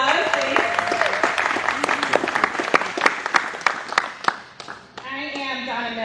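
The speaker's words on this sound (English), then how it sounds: "Let's give you a round of applause" An audience at a political press event with a congressional nominee breaks into scattered, lively clapping that thins out over several seconds before a voice takes over at the end.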